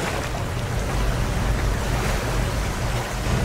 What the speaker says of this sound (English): Flushing. Oh, it's flushing